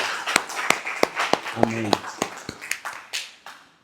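Rhythmic clapping from a church congregation applauding God, roughly a dozen evenly spaced sharp claps close by, with a brief spoken word in the middle and a fading tail.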